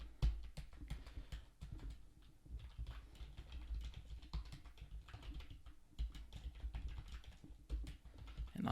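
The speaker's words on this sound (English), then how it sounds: "I'll type in my information here." Typing on a computer keyboard while entering account details to register a website domain, a steady run of quick, light key clicks close by with no talk.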